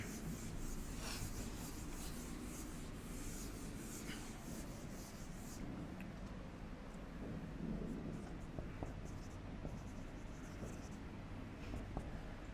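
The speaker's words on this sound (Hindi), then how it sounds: "मैं एक क्वेश्चन लिखता हूं तुम लोगों के लिए।" Chalk or marker scratching across a classroom board as a teacher writes out a question, a steady rubbing scrawl that runs continuously under a low room hum.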